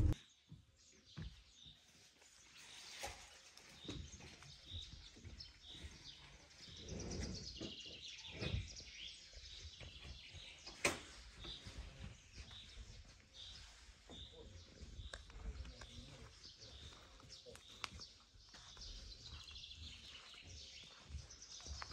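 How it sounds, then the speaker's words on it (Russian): Birds sing and chirp throughout a wild pine forest, with many faint, distant calls overlapping in a steady quiet chorus and no one talking. "так вот птички поют"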